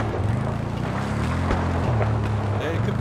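Vehicle engine hum in Battlefield 4 on Lumphini Garden, a steady low droning motor with wind-like noise, running continuously while voices talk over it.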